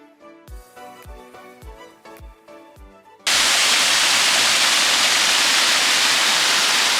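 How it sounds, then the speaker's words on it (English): Wentworth Falls waterfall in the Blue Mountains, Australia, roars as a loud, steady broadband rush of falling water. A few seconds of plucked, tonal music come first, then the roar cuts in abruptly and holds constant to the end. "Just come down to enjoy a very peaceful lunch on top of the waterfall."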